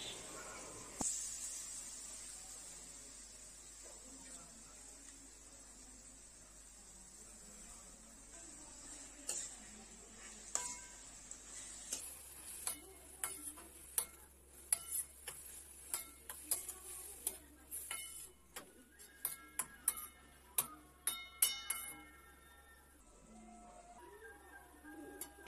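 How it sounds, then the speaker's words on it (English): Prawns fry in a pan with a faint, quiet sizzle at first, then light clicks and scrapes of stirring break in over the steady hiss toward the end. "And fry 3 to 5 minutes."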